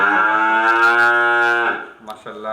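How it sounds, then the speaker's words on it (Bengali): A Holstein Friesian heifer gives one loud, close, drawn-out moo that fades into brief background rustling at a cattle sale. "খুবই দারুণ একটি গরু"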